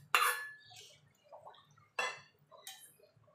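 Ridge gourd pieces dropped into a pot of rohu fish curry with potatoes, producing a few soft splashes and clinks of a utensil against the pot, quiet with gaps of near silence.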